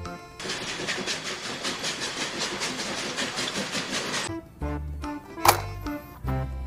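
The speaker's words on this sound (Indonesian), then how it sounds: "Di sini ada kereta lokomotif." A toy locomotive train rumbles with a rapid clickety-clack for about four seconds, then stops, followed by a few short mechanical clicks and hums.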